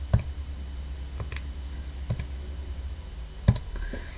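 Calculator buttons are pressed one by one while entering a trigonometry sum, giving a few sparse, close, crisp clicks over a faint steady hum, with no talking.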